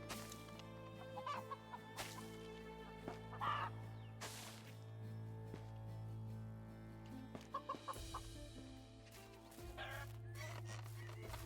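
Chickens on a farm cluck in scattered short bursts over a steady low hum, quiet and somewhat distant, with a few louder clucks near the end.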